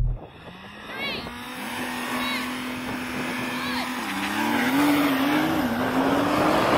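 Porsche Turbo S and Suzuki Hayabusa launching in a drag race: a loud engine drone climbs and surges in pitch, with chirping tyre squeals early on, building louder toward the end.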